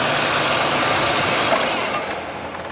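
A Volkswagen Jetta engine runs at a steady, loud idle close by. The rumble holds even throughout and eases slightly toward the end, with no voices.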